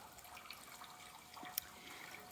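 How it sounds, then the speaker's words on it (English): A garden bird bath fills with water, a faint steady trickle and dribble close by, with a couple of small splashy bumps near the end. "So I'm going to have to turn on my water and fill the bird bath."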